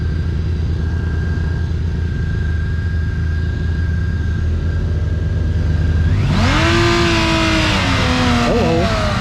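A BMW K1600B motorcycle idles with a steady low rumble and faint whine, then rides off, its engine rising sharply in a loud climbing rev with rushing wind noise over the last few seconds.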